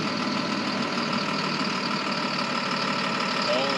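A tractor engine runs at a steady idle-like drone with its PTO engaged to drive a grain auger. The sound is constant and moderately loud, with a rough mechanical hum throughout.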